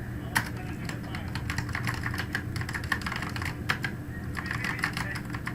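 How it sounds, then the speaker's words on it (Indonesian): Steady typing on a computer keyboard, a rapid run of clicking keystrokes with a few sharper presses like enter and tab, close and clear over a low background hum. "teman-teman harus mengklik yang namanya di keyboard enter seperti itu"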